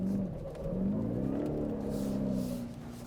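A 2024 Ford F-150 Raptor R's V8 engine revs hard under throttle on a dirt course, a loud, continuous rising and falling roar that holds steady close by for about three seconds with no talking.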